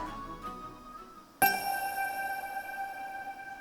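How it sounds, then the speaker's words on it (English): A bright chime-like notification sound rings out suddenly partway through, its clear tones ringing on and slowly decaying over quiet background. "Notification?"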